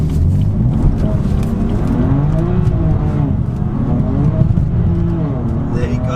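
A BMW F80 M3 Competition engine pulls hard at full throttle, a loud sustained roar with rising pitch sweeps through gear changes, heard from inside the car.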